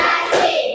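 A classroom of pupils claps in rhythmic unison during a counting clap routine, a quick burst of loud, close hand claps in a bright room.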